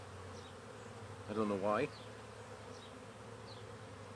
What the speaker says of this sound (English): Bees doing their little wiggle dance, shaking their butts.